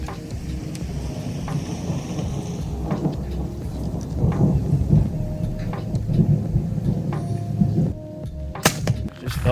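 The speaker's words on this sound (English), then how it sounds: "There's a lot of thunder out here" Low thunder grumbles outdoors through a light rain, rising and fading in long rolling waves, with a few sharp snaps standing out near the end.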